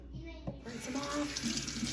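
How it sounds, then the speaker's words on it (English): Water runs steadily from a faucet as filled jars of bone broth are rinsed off, a continuous hiss with faint clinks and handling under it, no talking. "Rinse them off."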